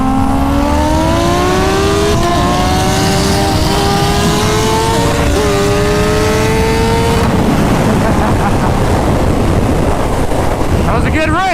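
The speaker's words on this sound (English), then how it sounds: "1200 wheel horsepower Lamborghini, stock 2019 H2 carbon" A 1200 wheel horsepower Lamborghini and a stock 2019 H2 Carbon race at high speed, loud engines whining and climbing steadily in pitch as they accelerate, then a quick roaring pass with heavy wind noise buffeting the microphone.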